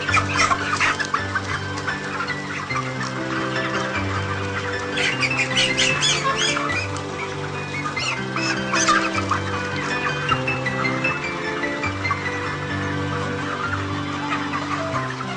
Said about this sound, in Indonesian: Setelah itu kita menangkap ayam yang akan ditimbang secara acak.